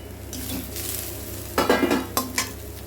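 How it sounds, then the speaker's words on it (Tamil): Grated carrot sautéing in a pan for vegetable fried rice: a steady soft sizzle, then a few louder scrapes and clatters of stirring near the end. "இப்போ வந்து நம்ம துருவி வச்ச கேரட்டை போட்டுக்கலாம். கேரட்டுனா அப்படியே வதங்கிடும்."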